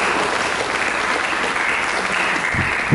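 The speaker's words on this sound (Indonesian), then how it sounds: "Mari kita berikan tepuk tangan." A church congregation applauds, a dense, sustained wash of many hands clapping at once, filling the room loudly and evenly throughout.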